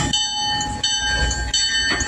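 A passenger train rolls along the rails of the New Hope & Ivyland heritage railroad, a steady rumble with a high metallic whine and rhythmic clacks of the wheels, heard close and alone.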